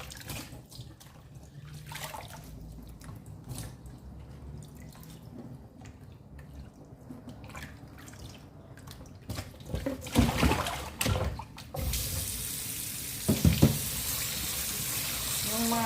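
Small leaves being rinsed under running tap water at a sink: light drips and splashes at first, building to a steady, louder stream of flowing water with bursts of handling.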